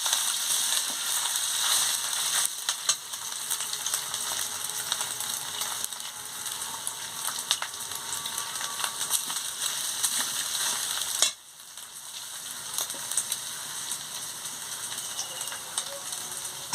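Spice masala with ginger paste frying in a pan for a pumpkin ghonto, a continuous close sizzle with scraping stirring strokes, briefly dipping quieter near the end, no voices.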